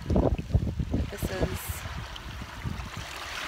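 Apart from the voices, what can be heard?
ocean shore, waves and wind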